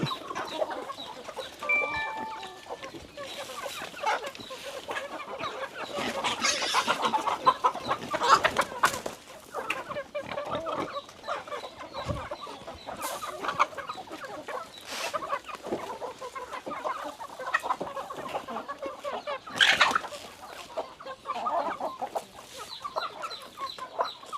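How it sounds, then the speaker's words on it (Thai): Several chickens cluck and chatter continuously nearby, with occasional sharper squawks over a busy outdoor farmyard background at a rice-field farm that also keeps pigs. "บรรยากาศเลี้ยงไก่อยู่ทุ่งนานะครับ"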